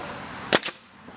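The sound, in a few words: nail gun firing a nail into wood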